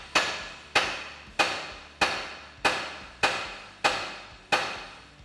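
Seven sharp metallic hammer strikes on a car suspension part during a 1980s Chevrolet Monte Carlo G-body coilover overhaul, evenly spaced blows each ringing out briefly before the next, close and alone.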